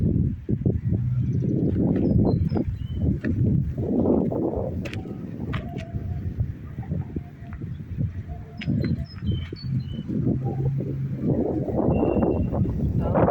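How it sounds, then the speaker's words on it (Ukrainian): Steady wind buffets the microphone, a broad rumbling roar with gusts rising and falling throughout, with faint bird chirps in the background. "вітер піднявся"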